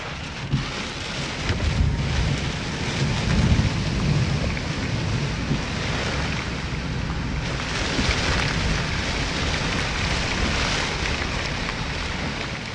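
Heavy rain pours down steadily during a thunderstorm, with deep rolling thunder rumbling underneath a dense, continuous hiss of rainfall throughout.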